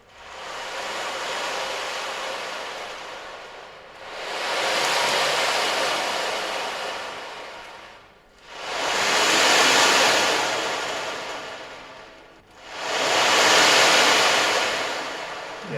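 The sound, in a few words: wave sound from steel ball bearings cascading over drum skin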